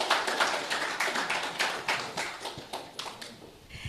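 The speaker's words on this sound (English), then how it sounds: "Please give us, the panelists, a well-deserved applause." Panelists at an electromobility presentation in Belize receive polite applause from a modest audience: fairly quiet, loosely rhythmic clapping that stays even and then tapers slightly toward the end.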